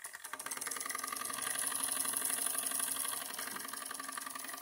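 A Bowman M140 live steam engine runs under load, a steady close mechanical chugging and rattling with a fast rhythmic beat that swells and then eases slightly.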